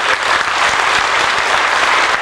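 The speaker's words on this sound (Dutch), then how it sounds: "Applaus voor Henry" Audience applause for acrobat Henry at a Dutch variety show: loud, dense, steady clapping from a full crowd that holds evenly throughout, with no talking over it.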